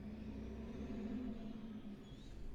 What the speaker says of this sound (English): there's really loud trucks outside.